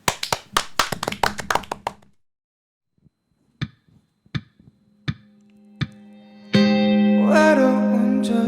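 A small studio audience claps in a quick burst of sharp hand claps that thins to a few scattered taps, then a song's music comes in.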